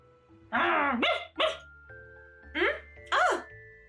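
A dog, likely a Shiba, barks in a video game: a handful of close, clear barks in two bursts, separated by short pauses, over quiet game ambience.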